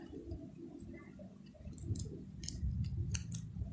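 Scissors snip during an unboxing, with a quick series of crisp, faint cuts of packaging clustered together over a low background hum.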